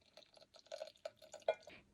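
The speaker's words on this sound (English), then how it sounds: "we are going to very carefully pour it into the bloom gelatin" Warm champagne simple syrup poured carefully into bloomed gelatin, a soft, close trickle of liquid with small splashy drips and a brief louder splash near the end, quiet and alone.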